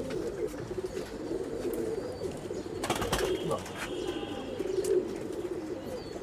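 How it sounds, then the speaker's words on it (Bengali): Pakistani Sialkoti pigeons coo softly and repeatedly among other birds, with a brief clattering burst in the middle, likely wing flapping. "শিয়ালকুটি বেজ লাইনের কবুতর আমি ছেড়ে দেখাইলে বুঝবেন"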